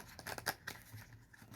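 Tarot cards are shuffled quickly, giving a short burst of soft, crisp riffling and slapping close by, fading into quieter rustles, with no talking.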